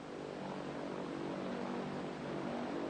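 Steady propeller airplane drone heard from inside the cabin during flight in a 1930s setting, a continuous broadband hum with no break or change for the whole stretch.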